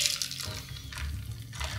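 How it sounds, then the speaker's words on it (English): Thick ice cream mixture pours into a Ninja Creami Deluxe pint container, giving a close, steady gurgling splash with soft surges and no talk. "we're gonna pour this into our creamy pint"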